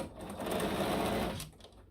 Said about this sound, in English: We're going to just sew them and press them